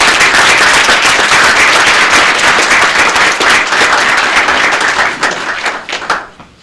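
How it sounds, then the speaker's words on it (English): A round of applause fills a city commission meeting in Palatka honoring the police chief: dense, loud clapping from the room, sustained for several seconds before tapering off near the end. "Give a round of applause for you"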